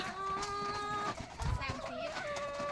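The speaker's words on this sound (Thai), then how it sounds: "มีแม่ไก่อยู่สามสิบตัวเนาะค่ะ" About thirty laying hens cluck and murmur close by on an egg farm, overlapping calls with a steady farmyard background and some scratching movement.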